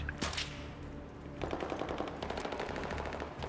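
Sustained automatic gunfire from the video game Battlefield 3, a firefight in a co-op mission: a single early shot, then rapid, dense bursts of machine-gun fire rattling continuously through the latter half, loud and close with no talking.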